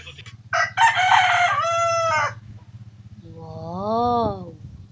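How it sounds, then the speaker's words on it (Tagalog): A big rooster crows one long, loud cock-a-doodle-doo close by on a rural farm, after a brief burst of clucking, with a steady low hum underneath. "Laking manok mga lalabo."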